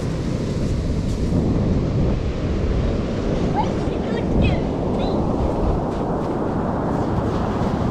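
Ocean waves break on a warm day near a flight of stairs, a loud, continuous wash of surf with heavy wind rumble across the microphone and no clear pauses.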